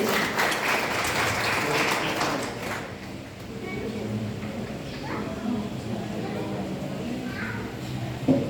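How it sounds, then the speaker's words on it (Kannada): An audience at a monthly devotional gathering honoring Basavanna claps loudly for the guests for about three seconds before the applause fades and a speaker continues talking. "ಅವರೆಲ್ಲರಿಗೂ ಒಂದು ಜೋರಾದ ಚಪ್ಪಾಳೆ"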